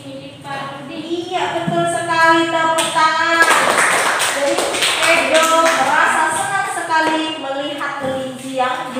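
A classroom of children claps together for a classmate, a dense burst of many small hands that rises and holds for several seconds under an adult teacher's voice.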